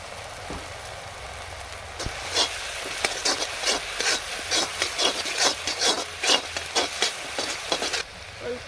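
Masala spices for soybean curry being sautéed and stirred in a pan, a close, rhythmic series of scraping strokes over a soft sizzle, repeating steadily for several seconds.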